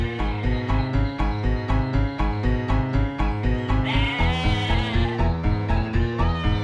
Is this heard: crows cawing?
no